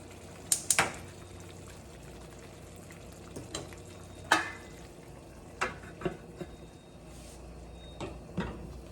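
Pot of penne pasta cooking in boiling water, a low steady bubbling simmer close by, broken by a handful of sharp clinks and clatters from the pan, with no talking.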